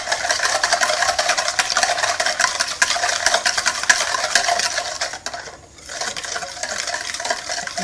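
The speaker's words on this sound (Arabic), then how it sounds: "نحرحروا هذه الخميره مع السكر" Yeast and sugar are stirred into lukewarm water with a continuous close swishing and scraping that pauses briefly, then resumes.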